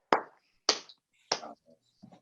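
Three sharp, separate hand claps ring out close by with a short room echo, followed by a couple of faint softer taps.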